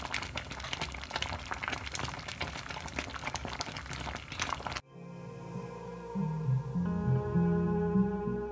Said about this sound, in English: So at this point I leave it for some like 1 to 2 minutes for it to boil.